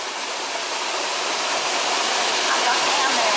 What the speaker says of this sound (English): So that water's coming through there now.